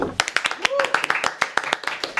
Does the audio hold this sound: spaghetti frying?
no